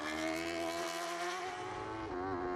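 A BMW racing motorcycle at the Armoy road races screams past close by, its engine a loud, sustained high-revving wail that holds steady through the whole stretch, without any voices.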